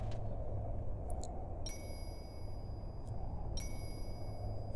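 Two bright bell chimes ring out in Final Fantasy XI, each a clear metallic ding with a sustained ringing tail, spaced about two seconds apart over a steady low ambient game background.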